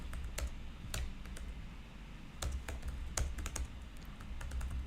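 A computer keyboard is typed on in short irregular bursts of clicks during a JavaScript programming lesson, close and moderately loud over a low steady room hum, with no talk.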